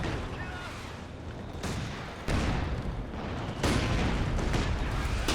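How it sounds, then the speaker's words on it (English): Mortar fire in a real-time strategy game, with heavy rumbling booms and bursts that swell in two steps over a continuous loud battle bed, while commentators talk over it. "Now the mortar's returning fire"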